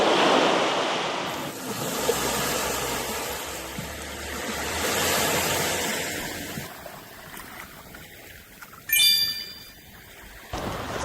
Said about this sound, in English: we came to this beautiful beach called Hull Beach